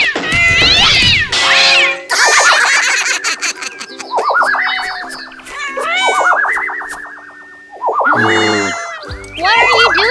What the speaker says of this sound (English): Evil cat.